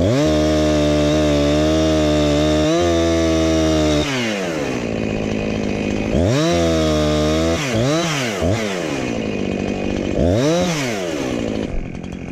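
Chainsaw trimming a tree outdoors, loud and close, idling steadily then revving up and down repeatedly as it bites into the wood, with no talking.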